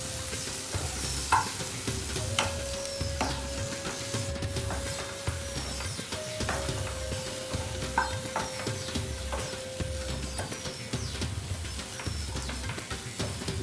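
Dry fish and tomato being stirred in a hot pan with a small knife or spatula, scraping sizzle with rhythmic strokes repeating steadily throughout, close and fairly loud.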